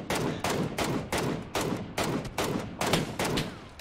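Rapid bursts of gunfire in an online shooter video game, repeating in short clusters roughly every half second, loud and continuous throughout with no talk over it.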